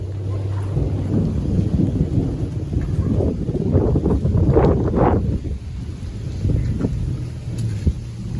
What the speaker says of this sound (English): Rain like a bus. Thunder roll.